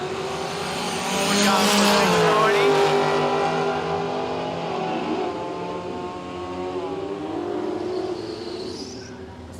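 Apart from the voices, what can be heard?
Gemini drag race car spooling up and launching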